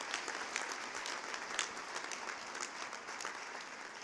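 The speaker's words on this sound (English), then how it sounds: "So let's give her one more round of applause." An audience at a university commencement ceremony gives a sustained round of applause, a continuous crackle of many hands clapping at a moderate, fairly distant level.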